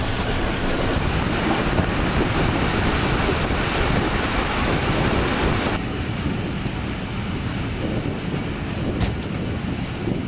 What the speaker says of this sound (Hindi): ट्रेन अब स्टॉप कर रही है गीलेवाला रेलवे स्टेशन पर